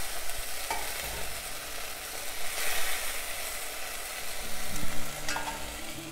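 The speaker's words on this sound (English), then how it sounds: "Cook and stir over medium heat for a few minutes using a wooden spatula to release any flavorful bits from the pot." A wooden spatula stirs and scrapes the bottom of a beef stew pot over medium heat, releasing browned bits amid a continuous sizzle, with irregular scraping strokes up close.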